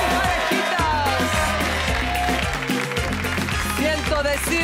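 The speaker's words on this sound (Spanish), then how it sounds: "aplauso para nuestras parejitas!" Studio audience applauds the couples on a 70s roller disco dating show, a steady clapping wash mixed under loud thumping disco music with a host's voice over it.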